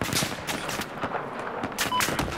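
In a Battlefield 4 match, sniper and other gunfire crack out as rapid, mid-distance shots in several bursts spread across a couple of seconds.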